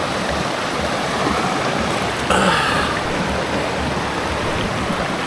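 River water flowing steadily around someone sitting in it in a Sumatran jungle in Indonesia, a loud, constant rushing wash close by, with one brief splash partway through.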